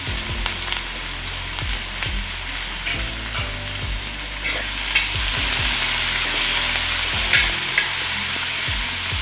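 Small shallots, chilies and a generous handful of curry leaves fry in hot oil with a loud, continuous sizzle, while a spatula knocks and scrapes against the pan in uneven bursts.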